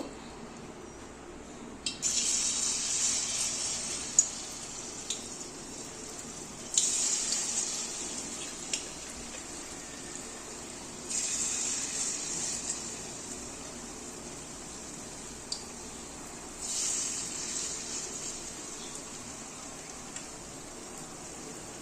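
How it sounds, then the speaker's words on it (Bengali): Bottle gourd fritters in batter frying in oil give faint, soft bursts of sizzling that swell and fade about four times, each lasting a couple of seconds, over a quiet kitchen background. "এখন আমি বাকি ব্যাটারটা দিয়েও এইভাবেই বাকি বড়াগুলো ভেজে নেব।"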